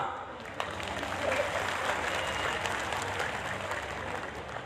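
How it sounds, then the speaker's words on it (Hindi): Audience at an Indian National Congress joining event for a ward 74 municipal corporator breaks into steady, dense applause, a continuous wash of many hands clapping throughout. "उनके लिए जोरदार तालियां।"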